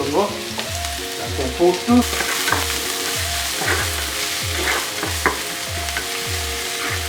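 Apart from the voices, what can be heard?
onion frying in a pan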